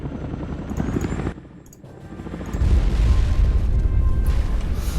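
Anti-aircraft guns destroyed in the strategy game Shattered Union: a loud, sustained rumbling roar that drops away briefly, then swells into a heavier, deeper booming blast that carries on to the end.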